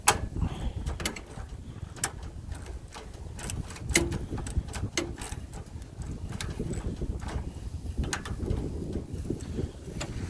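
A hand wrench loosens a half-inch nut on the starter solenoid of a Simplicity Sunstar lawn tractor, making repeated sharp ratcheting clicks in an uneven rhythm throughout, close and moderately loud.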